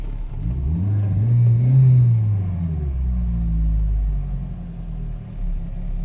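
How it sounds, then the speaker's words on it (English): Hyundai Getz engine with a newly replaced MAP sensor and the air conditioning on, revving once from idle to a higher pitch and settling back down, close and steady with no talk. "let's try to give a gas."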